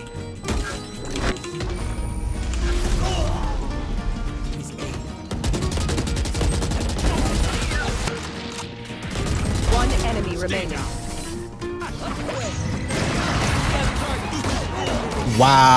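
Video game gunfire in bursts of loud shots and mechanical clatter over game music and effects, with a player's voice talking intermittently through it.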